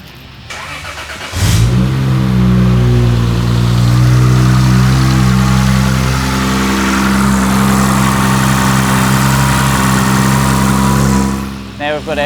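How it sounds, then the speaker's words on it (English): A car engine cranks and fires after a Turbosmart fuel pressure regulator install, then settles into a steady, loud idle with a deep low rumble that holds nearly to the end. "All looks good, so we'll start the car."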